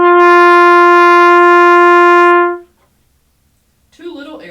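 Trumpet sustaining a G with full breath support, a loud, steady, bright tone held for about two and a half seconds before it cuts off, followed by silence and a brief faint sound at the end.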